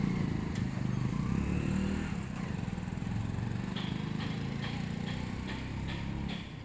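Motorcycle pulling a bike trailer on a speed test ride, a continuous engine drone with road rumble and a few rattling ticks toward the end, no voices.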